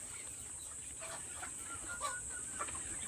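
Young Black Australorp chickens, about two months old, cluck softly on a poultry farm. The calls are faint and scattered over a steady high-pitched hiss of background noise.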